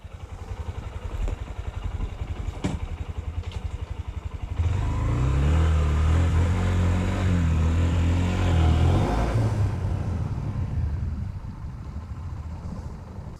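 A 2021 Honda CB125F motorcycle engine accelerating in town, its low steady drone swelling and climbing in pitch through the middle before easing off, close and loud with no talking.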